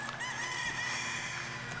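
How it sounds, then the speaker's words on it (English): A rooster crowing nearby in a garden, one loud drawn-out call filling the whole short stretch. "Then he's gonna jump on top of the water and start crowing."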